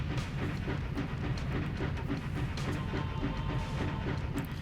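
A video game train from MediEvil, styled with tiny little wheels, rolls along with a steady rhythmic clickety-clack over a dense low rumble, continuous and close, with no voices.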